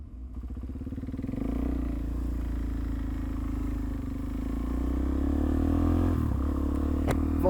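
A motorcycle cruises steadily along a rough road, its engine droning loud and close throughout with a low rumble, picking up slightly toward the end with some rattling over the uneven surface.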